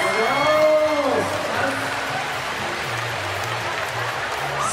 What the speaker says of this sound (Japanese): 皆様、今一度大きな拍手をお願いします。